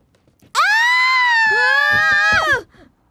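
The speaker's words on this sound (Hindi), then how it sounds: "चिल्ला क्यों रही हो?" A girl screams loudly and steadily for about two seconds, a single sustained high-pitched shriek that cracks and breaks off at the end, alone with no talk over it.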